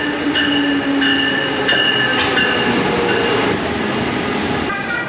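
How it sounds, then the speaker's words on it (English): A Brightline high-speed train stands at the Fort Lauderdale station platform in Florida. Its horn-like tones and a steady rumble come from close by, with no voices. "I'm standing on the platform of Florida's high-speed rail system called Brightline, where we're about to take a ride all the way down to Miami."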